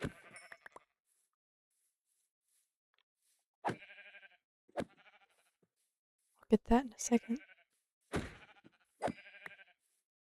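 Minecraft sheep bleat in short separated bursts, some louder and some fainter, among soft game thumps and a brief spoken voice.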